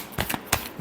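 Tarot cards shuffled by hand in quick, close riffling bursts, several short crisp flutters separated by brief pauses, faint and alone.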